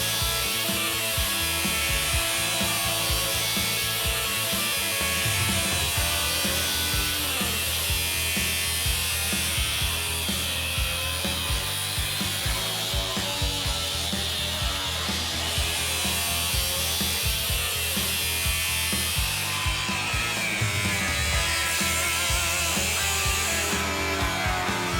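Power saw cutting through the sheet-metal floor of a 1972 Camaro split-bumper race car build, a steady, loud, continuous buzzing grind that runs unbroken throughout with no talking.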